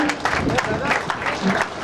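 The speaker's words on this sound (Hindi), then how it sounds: "जोरदार तालियां हो जाए।" A crowd claps steadily for a couple of seconds, the applause mixed with some voices.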